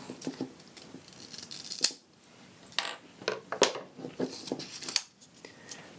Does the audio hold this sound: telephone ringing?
no